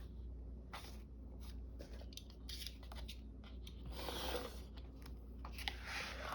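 Scissors snip pieces off a sheet of printed paper for a December Daily craft album, a run of quiet, close crisp cuts with paper rustling between them and no talk.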